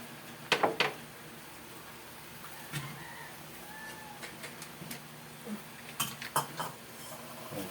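Metal utensil scrapes and clinks against a pan while mixed seafood is stirred, intermittent clatters over a faint background hum, with distant chicken and cat sounds in the household setting.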